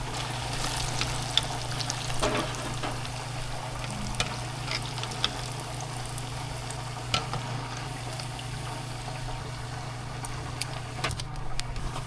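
Smelt fry in oil in a 100-year-old cast iron skillet outdoors. There is a steady crackling sizzle with scattered pops over a constant low hum.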